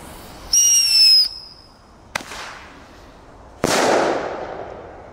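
Thunderking firecrackers go off outdoors. A whistling rise is followed by a sharp crack and then a louder, booming bang that echoes and fades.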